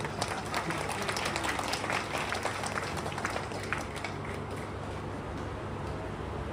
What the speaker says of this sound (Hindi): ये एक बार जोर पर ताली बजा दो, हमारे गांव वाले भी खुश से हो जाएंगे कुछ